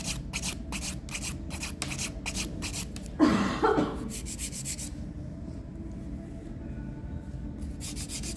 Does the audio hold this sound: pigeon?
no